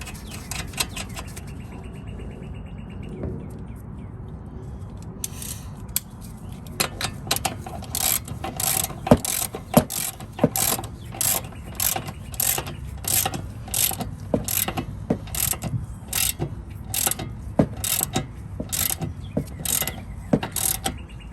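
A castle nut is tightened on the upper control arm ball joint of a Honda Civic, with a quiet start followed by a run of close, sharp ratcheting clicks and metallic ticks.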